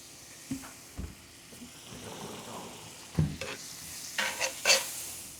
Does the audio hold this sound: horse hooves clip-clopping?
no